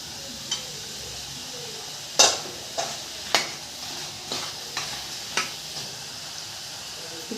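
Mushroom pieces stirred into a tomato masala in a pan, a soft background sizzle broken by several sharp spoon scrapes and knocks against the metal, spaced irregularly and close.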